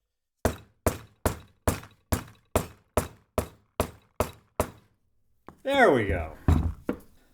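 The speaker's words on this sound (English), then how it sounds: "I'm going to use a rubber mallet so it's doubly soft" Rubber mallet tapping a wood block to seat a brake seal during a Wilwood brake upgrade: ten evenly spaced, close knocks, then a short spoken remark.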